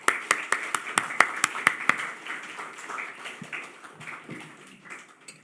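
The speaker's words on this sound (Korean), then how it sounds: "나오실 때 큰 박수로 축복하겠습니다" A church congregation claps during a Sunday worship service to welcome the pastor to the pulpit. About nine sharp, evenly spaced claps ring out first, then give way to softer, scattered clapping that fades out.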